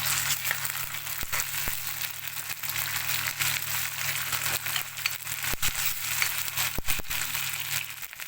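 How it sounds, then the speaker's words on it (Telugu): Ginger garlic paste sizzles steadily with onions in a hot pan, a continuous frying crackle punctuated by sharp clicks and taps of a spoon against the metal, close and moderately loud, with no talking. "ఇది కూడా పచ్చివాసన పోయేదాకా ఫ్రై చేసుకున్నాం"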